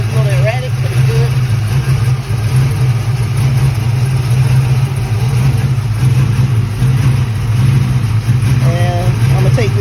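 A Pontiac GTO engine runs steadily at a low idle, a constant deep drone filling the whole stretch, with faint voices in the background.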